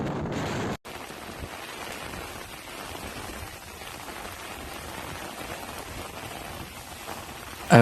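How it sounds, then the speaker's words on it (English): Torrential rain pours steadily during a violent night storm in Palermo, Sicily, a dense, even hiss of water at moderate level that continues after a brief cut near the start. "A violent storm swept through Palermo, Sicily, late Monday night, unleashed torrential rain, violent winds, and powerful lightning strikes"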